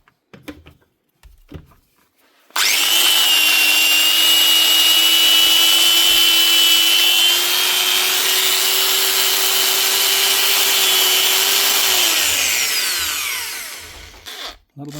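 A repaired Bosch GWS 6-115 4.5-inch angle grinder with new bearings, brushes and fresh gearbox grease spins up sharply and runs at a loud, steady high whine for about ten seconds before winding down.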